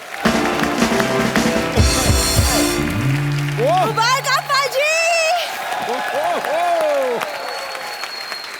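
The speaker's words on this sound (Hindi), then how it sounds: "जोरदार तालियां सिद्धू पाजी के लिए" A comedy show studio audience claps and cheers for Sidhu, loud and close, while music stings and sliding tonal effects play over it and someone speaks briefly.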